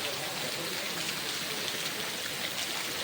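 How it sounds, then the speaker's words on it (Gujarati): Heavy rain with big drops falls steadily on a farm, a dense even hiss close by and fairly quiet, with no voices and no breaks. "મિત્રો મોટા મોટા છાંટા આવવા મળ્યો છે, મોટા મોટા છાંટા"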